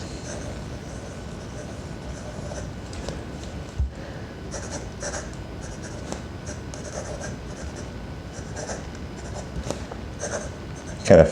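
A hand-ground fine italic fountain pen nib, set up to write wet and smooth, scratches steadily across paper in a continuous close-up stroke sound with brief louder scuffs and a sharper scrape at the end.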